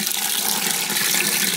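Water poured back through a compost tea bubbler setup, drawn from a small fish pond, making a steady loud splashing rush that continues without a break.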